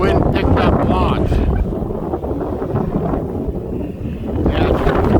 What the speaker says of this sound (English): Holy, the wind picked up lots.